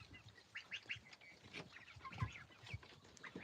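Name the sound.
hen clucking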